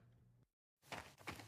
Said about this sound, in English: Suddenly, I heard the front door open